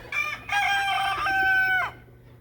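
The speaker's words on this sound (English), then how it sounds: "Chickens are huddling by the house. They're not quite ready to go to bed yet, but a rooster honking." A rooster near a farmhouse crows once in a clear, drawn-out cock-a-doodle-doo, close and fairly loud, with a short lead-in note and a quiet backyard afterward, no voices.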